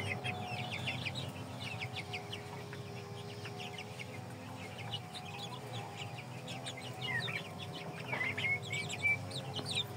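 Shamo, Indio Gigante, turkey and other chickens at a feeding, clucking and calling in a busy overlapping chorus with rooster-like calls, close and continuous over a low background hum.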